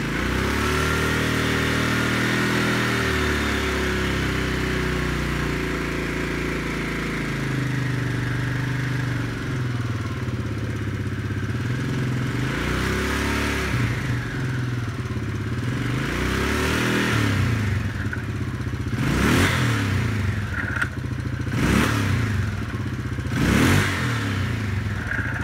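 An ATV quad bike engine, one with a starter fault and a CVT variator, runs close by at a steady drone, then wavers and dips as the throttle is eased off, with several short revving swells toward the end.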